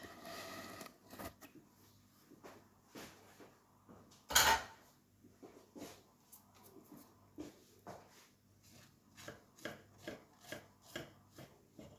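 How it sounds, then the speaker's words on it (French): A knife slices through a light, airy biscuit de Savoie sponge cake, giving a series of soft, close crumbly strokes and taps at a steady rhythm, with one louder knock partway through and no talk. "Je vais le couper pour vous montrer l'intérieur."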